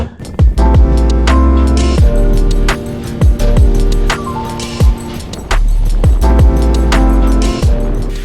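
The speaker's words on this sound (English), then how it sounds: "This is the cheapest electric longboard you can buy, I think, that goes fast and is, decently safe and good." A Meepo V5 electric longboard rolls along with a loud, close wheel roar and motor whine, broken by repeated sharp clacks and thumps as the board passes over pavement seams.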